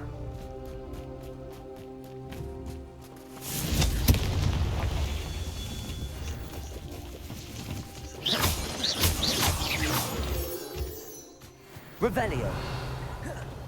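Confringo fire spells explode in the Hogwarts Legacy video game, with deep booming blasts and crackling bursts in several clusters over a continuous game-music bed, loud and close, with shouted spell incantations around them.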